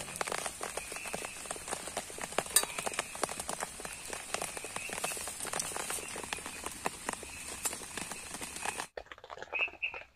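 Rain falls steadily on a campsite tent, giving dense close pattering with scattered sharper drop hits for most of the stretch before it suddenly cuts away to near quiet with a few faint taps.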